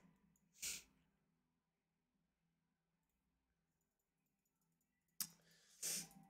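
A person sneezes near a microphone during a World of Warcraft livestream. There are two sharp bursts, one early and one near the end, over quiet background hum with faint clicks between them.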